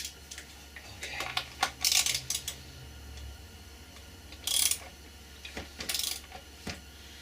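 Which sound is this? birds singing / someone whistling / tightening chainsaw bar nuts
tightening chainsaw bar nuts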